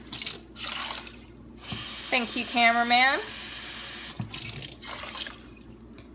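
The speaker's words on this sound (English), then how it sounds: "You want 3 cups water for 1 cup lentils." Tap water gushes into a pan for cooking lentils, a few seconds of steady running water whose pitch rises as the pan fills. Brief talk comes before and after the pour.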